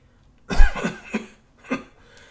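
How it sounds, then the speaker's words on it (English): A man coughs several times in a rough, hacking burst, close up, with short gaps between the coughs. "coughing furiously as he attempted to catch his breath"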